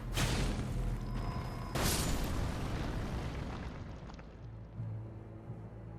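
Bombs detonate in the Elden Ring DLC game, two heavy booming blasts about two seconds apart, each with a sharp crack and a long rumbling decay that fades quietly toward the end.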